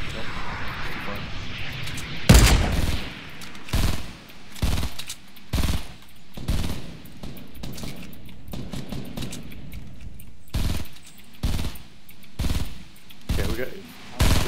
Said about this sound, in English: Oh shit, they're shooting at us.